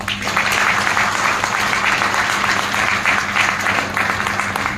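An audience at a medical talk on infertility and Kangen water applauds, dense and continuous clapping that stays loud and even from start to finish.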